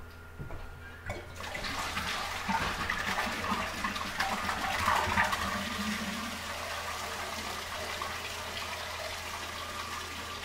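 Tap water gushes and splashes into a vessel while filling for home beer brewing, a steady, moderately close rush that starts abruptly after a quiet opening and continues to the end.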